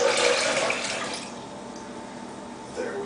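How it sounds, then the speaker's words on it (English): Four cups of chilled water pour in a rushing, splashing stream onto soaked almonds, loud at first and then tapering to a softer trickle near the end. "to that I'm going to add 4 ounces, not 4 ounces, 4 cups of chilled water that I've already measured out."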